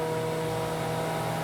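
A Unica Skin compact skin packaging machine hums steadily while vacuuming film onto a meal, a continuous motor drone with a tonal whine and no pauses.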